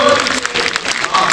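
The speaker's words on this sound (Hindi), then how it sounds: "ताली बजाओ मिलके सारे जोर जोर" Audience applause at a Hindi kavi sammelan poetry gathering, a dense patter of clapping filling the short stretch, with a voice talking over it.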